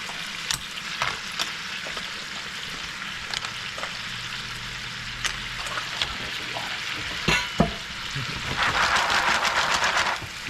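Clams and green-lip mussels sizzle and fry steadily in a cioppino seafood stew pot, with scattered clinks and stirring knocks over the close, continuous bubbling hiss, which grows louder near the end.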